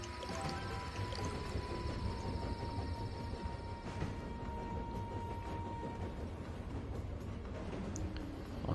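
Steady watery spraying and sloshing from a train being cleaned in the mobile game Tiny Rails, continuous and fairly loud for the whole stretch, mixed with faint tonal game sounds.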